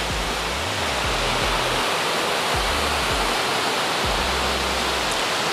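Water pours steadily from Kinnerasani Dam toward a power plant, a loud, dense, continuous rush close by with no voices.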